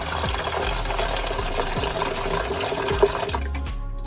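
Melted coconut wax pours in a steady, close liquid stream into a tin set on a scale, with a continuous trickle that cuts off near the end.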